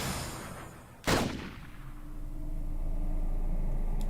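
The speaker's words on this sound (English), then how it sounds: "A gunshot rang out from Tatano's gun." A single sharp gunshot from the video game 428 Shibuya Scramble cracks out loudly and close, then decays into a low rumbling background hum that swells slightly afterward.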